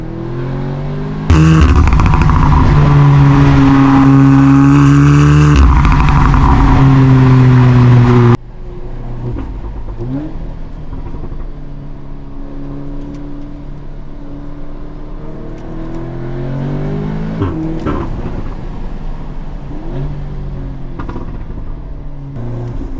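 Tuned Audi S3 Stage 1 fitted with a Milltek exhaust, a loud close engine rising hard through the revs with gear-change breaks, then a quieter steady drone and lighter throttle swells afterward.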